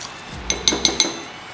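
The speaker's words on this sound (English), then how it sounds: "And now we'll stir our ingredients together till well combined." A utensil clinks sharply against a bowl four times in quick succession while facial scrub ingredients are mixed, each a bright, close tap.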